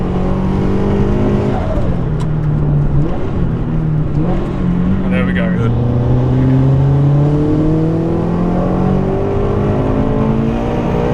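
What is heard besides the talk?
turbocharged sports car accelerating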